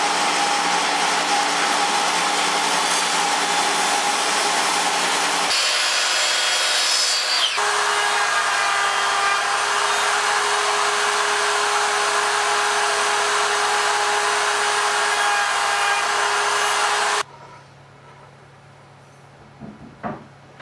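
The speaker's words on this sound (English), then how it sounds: "we'll go ahead and rip some pieces down to a 1/4 inch thick to make the brackets for the back." A saw rips wood into quarter-inch-thick strips for brackets: a loud, steady, continuous whine runs unbroken for about seventeen seconds, then cuts off abruptly, leaving near silence.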